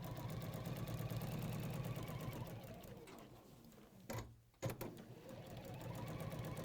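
A sewing machine stitches a pocket seam on a denim jacket with a fast, close, continuous whirring rhythm that slows and pauses briefly with a few clunks, then picks up speed again.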